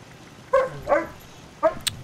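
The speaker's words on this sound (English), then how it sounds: "Why you go arf arf?" A dog in the video game Fallout 76 barks in a few short, sharp yips spaced across a couple of seconds, close and fairly loud over a faint background hum.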